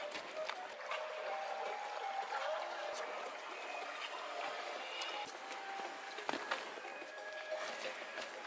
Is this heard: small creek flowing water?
yes